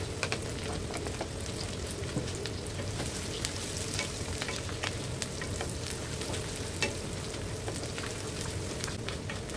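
Chopped onions frying in a pan for chicken curry, a steady dense sizzle with constant crackle and pops running the whole time, close and fairly loud, no voices.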